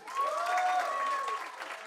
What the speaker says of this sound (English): Audience clap, encourage him.